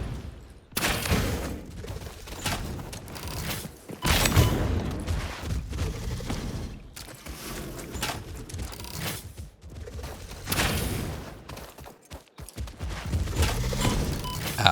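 Gunfire from enemies in the video game Satisfactory, bursts of shots and clattering impacts recurring across the stretch, fairly loud, with other game noise mixed in.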